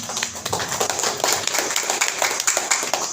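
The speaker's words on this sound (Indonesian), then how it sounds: "tepuk tangan buat kita semua ya" Dense clapping from a crowd continues steadily throughout, loud and close with no talk over it.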